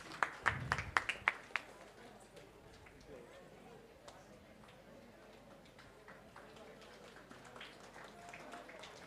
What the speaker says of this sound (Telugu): అందరు కూడా ఒకసారి ఘనంగా అమ్మవారికి చప్పట్లు.